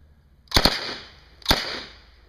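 An Uzi submachine gun fires two quick shots, then a third about a second later, at a Miami Vice themed subgun shooting competition. The reports are sharp and clear, each followed by a short ringing decay.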